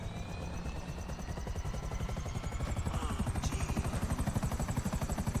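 A helicopter in the video game GTA Online gives a steady, fast rotor chop over engine whine, with the pulsing growing slightly louder and closer toward the end.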